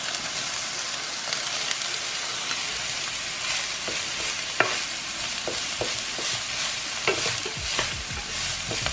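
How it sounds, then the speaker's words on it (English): Broccoli slaw fries with onions in a hot pan, a steady loud sizzle with occasional scrapes and stirring clicks, close up and with no talking. "Cook this down until it gets a little soft, and then I'm gonna remove it from the heat."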